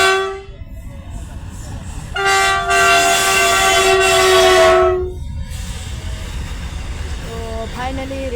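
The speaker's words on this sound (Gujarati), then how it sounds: "ફાઇનલી રેલગાડી આવી ગઈ" A passenger train arrives with a long, loud multi-tone horn blast lasting a few seconds, over the steady rumble of rolling wagons, followed by a brief shorter toot near the end.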